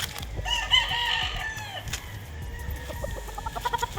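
A White Kelso gamefowl rooster at a game farm lets out one drawn-out crow, followed by short clucks and scattered farmyard noise nearby.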